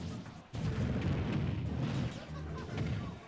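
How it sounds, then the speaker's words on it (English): Missiles fire in a Super Smash Bros. match between Samus and Mii Gunner, heard as booming blasts and rumbling bursts amid game effects, fairly loud and continuous after a brief quiet start. "They both answered with a missile."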